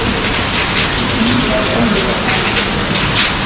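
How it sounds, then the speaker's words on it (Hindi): Steady rain pours onto the lawn of a circuit house in Prayagraj, a dense, loud, unbroken hiss with faint voices under it. "आज बारिश होती हुई आपको दिख रही है।"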